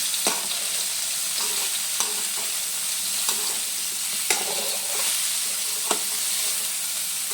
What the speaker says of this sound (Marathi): आपल्याला हे चांगलं तेलात फ्राय करून घ्यायचं आहे.